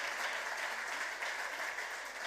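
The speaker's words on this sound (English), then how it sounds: "Please, one more big round of applause." Audience at a women's weekend panel discussion applauding steadily, a thick even wash of many hands clapping without pause.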